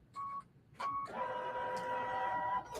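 An embroidery machine stitches background quilting on a wall hanging, giving two short whirring bursts and then a longer steady tonal run, faint and close.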